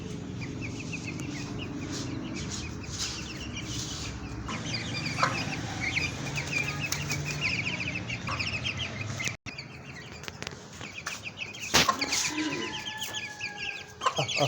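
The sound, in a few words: hen and chicks clucking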